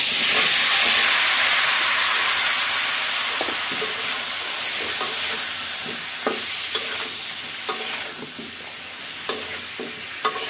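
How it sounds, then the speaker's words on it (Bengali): Eggplant and tomato fry and get stirred in a pan for a bhorta, giving a steady close sizzle and hiss with scraping stir strokes scattered through, the sizzle easing slightly toward the end. "এগুলা খুব সুন্দর করে নাড়াচাড়া দিয়ে অল্প আছে এগুলা ভেজে নেব।"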